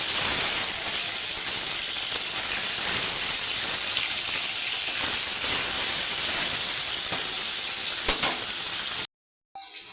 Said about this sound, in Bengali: মাছটা উল্টে পাল্টে আমি ভেজে নেবো